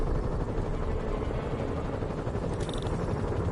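Helicopters in the Spider-Man video game, a steady low rotor rumble that stays continuous and fairly distant, with no talking.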